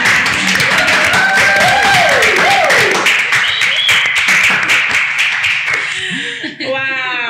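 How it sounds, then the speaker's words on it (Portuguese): Podcast studio audience applauds a guest author: dense, steady clapping fills several seconds, mixed with cheering voices and whoops, then thins out as a voice takes over near the end. "Uma forte salva de palmas para a Esperança."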